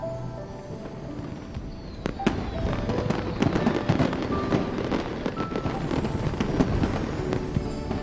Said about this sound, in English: Wow, fireworks again for the third yo-yo in a row